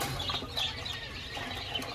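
Thirty-day-old male and female quail on a farm give faint, short chirps and twitters over a soft background murmur.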